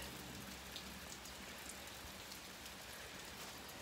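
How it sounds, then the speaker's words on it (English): Steady rain falls outdoors on a gray day, a dense, even hiss of drops on surfaces that stays constant and fairly close throughout, with no voices. "And the rain is falling."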